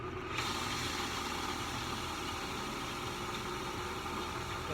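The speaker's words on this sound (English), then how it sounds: "The pump is spinning." Repaired pool pump running steadily, a continuous even motor hum and whir with no breaks, moderately loud and alone.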